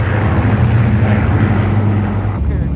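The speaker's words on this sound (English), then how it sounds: "followed by the Lancaster Bomber and Supermarine Spitfires." Lancaster Bomber and Supermarine Spitfires flying past at RAF Brize Norton, a loud sustained piston-engine drone with a steady low throb, easing slightly near the end.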